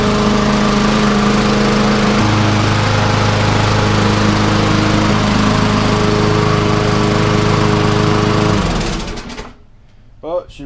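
A Lawn-Boy lawn mower engine with a governor revving too high runs loud and steady at close range, holding a constant high-pitched drone before abruptly cutting off and fading to near silence.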